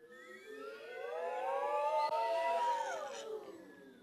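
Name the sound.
voice imitating winter wind blowing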